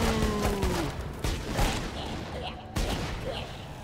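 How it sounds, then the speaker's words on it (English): Explosions and rapid gunfire from the video game Borderlands 2 crash together in a dense, continuous barrage, loud and close throughout with sharp bursts standing out. "There's a bit of lag on the explosion"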